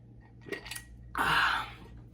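Glasses clink in a toast, with a couple of light taps followed by a brighter ringing clink, close and fairly quiet with no talk.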